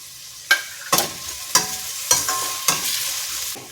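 Fresh coriander leaves fry in a pan for rice flour Manchurian balls, stirred in about six distinct scraping strokes at a steady rhythm over a continuous close sizzle, with no talking.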